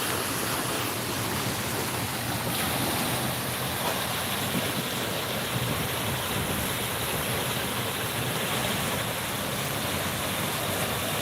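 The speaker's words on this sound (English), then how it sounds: "But check out this river." A river flows steadily past a hotel in rainy weather, a continuous broad rushing wash of water that holds even and fairly close throughout with no voices.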